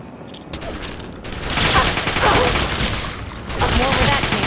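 Explosive blasts and heavy gunfire in Fallout 3 on PC, loud and continuous, with rumbling bursts swelling around the second and fourth seconds amid chaotic combat noise.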